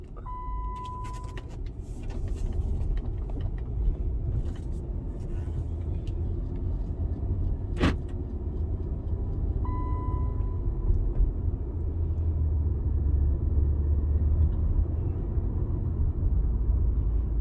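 Chrysler 200 with a faulty front hub bearing driving on the road, a steady low rumble of engine and road noise from inside the car, with a sharp click midway and faint short tones.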